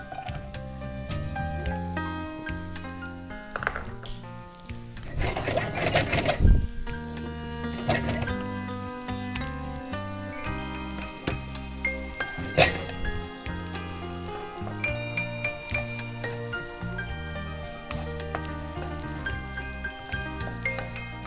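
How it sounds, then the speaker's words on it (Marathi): Vertically sliced onion sizzling steadily in hot oil in a wok, a dense continuous frying hiss with occasional stirring clinks, while background music plays throughout. "मस्तपैकी एका वॉकमध्ये आपण तेल घेतोय। तर तेलामध्ये उभा चिरलेला कांदा,"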